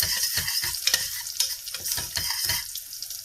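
Fresh garlic and curry leaves sizzle and crackle steadily in a hot pan, a close, continuous frying hiss broken by soft stirring scrapes, with no voices.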